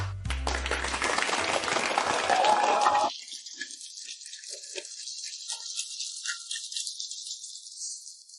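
Applause from about a hundred people in a restaurant, a loud dense clatter of clapping that cuts off sharply after about three seconds and leaves a faint rattling, dripping background.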